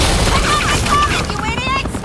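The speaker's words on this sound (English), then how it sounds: "You cops can't just shoot people like that!" Police gunfire in the video game Batman: The Enemy Within sounds as a dense, loud barrage of shots blurring together under dramatic scoring and shouting voices.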